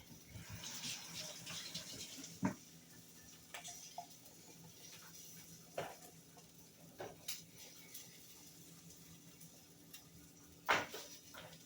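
A faint trickle of tap water runs in a kitchen sink as spinach leaves are washed, with scattered clinks and soft knocks.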